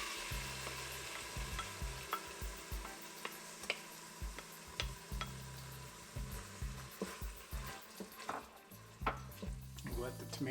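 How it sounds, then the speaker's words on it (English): Tomatoes fry in a pan for khichdi, giving a steady close sizzle broken by repeated scraping and tapping as a spoon stirs them; no voice is heard. "We'll let the tomatoes cook down for a few minutes."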